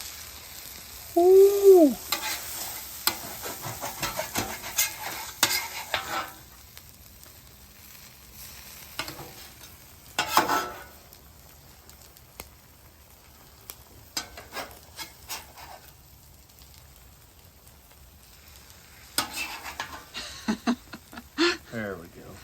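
Frozen cheese steak sizzling on a griddle, soft frying hiss with scraping spatula strokes in bursts, and a brief voice exclaiming near the start.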